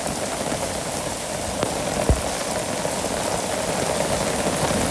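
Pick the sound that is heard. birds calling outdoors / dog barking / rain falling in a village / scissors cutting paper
rain falling in a village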